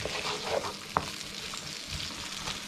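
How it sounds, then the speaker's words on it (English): Onions sautéing in a wok with leftover beef tongue marinade on its bottom: a busy, close sizzle with one sharp utensil click, no voices. "I'll just saute those for a couple of minutes"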